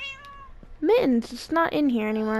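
A Minecraft cat meows in the game, a short tonal call at the start followed by louder meows mixed in with a person talking over them.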